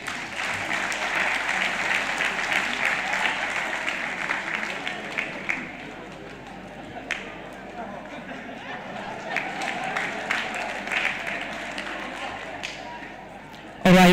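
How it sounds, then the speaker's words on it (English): Audience applause at a Gambian presidential candidates' debate during the candidates' photo session, a broad, steady clapping that swells, eases off midway and builds again, with murmuring crowd voices throughout. "You may applaud them as they take their picture as well."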